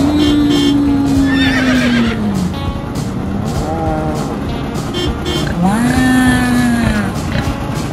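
A pony neighs loudly twice on a farm, long descending whinnies near the start and again near the end, over steady background noise.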